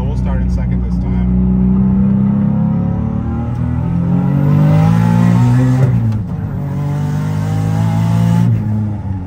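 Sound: car accelerating at full throttle in second gear

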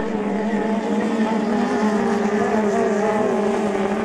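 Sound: hydroplane racing boats

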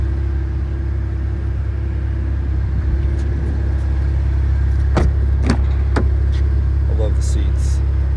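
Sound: Cadillac CT4 Blackwing engine and exhaust in track mode

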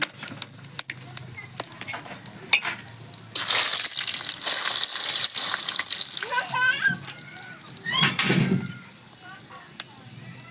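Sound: cumin, bay leaf, cinnamon, star anise, cardamom added to pan

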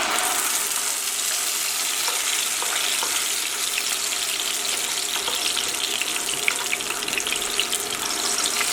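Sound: tomato puree sautéing in hot oil for rajma curry

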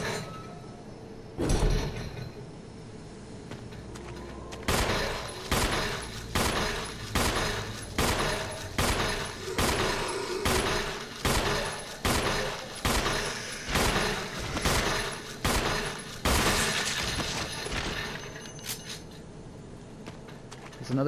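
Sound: gunshots in Resident Evil Remastered video game

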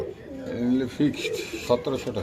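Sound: pigeons cooing in a loft

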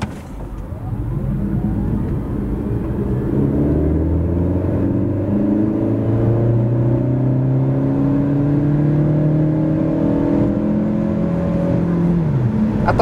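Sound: Nissan Juke e-Power accelerating 0-100 km/h in sport mode

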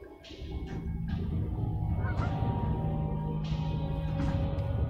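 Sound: chicken squawk in video game Alice: Madness Returns

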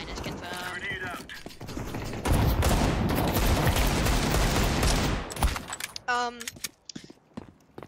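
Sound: shotgun blast in the video game Counter-Strike 2

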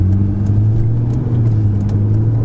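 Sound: Ferrari 488 GTB engine while driving

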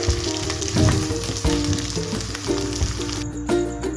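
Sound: false daisy leaves sizzling in hot almond oil

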